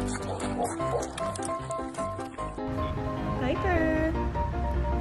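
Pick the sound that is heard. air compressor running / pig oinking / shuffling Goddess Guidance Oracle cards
pig oinking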